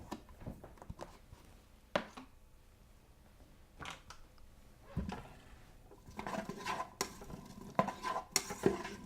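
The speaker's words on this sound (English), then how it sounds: "we're going to put in the chopped onions" Chopped onions cook in a pressure cooker, a spoon clanking and scraping against the metal pot in irregular strokes over a soft sizzle, close up.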